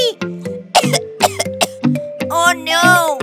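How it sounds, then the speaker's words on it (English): A child coughs in a kids' nursery-rhyme song, with a quick series of close, sharp, voiced coughs and throat sounds packed into about three seconds. "I got a little sick and I'm coughing"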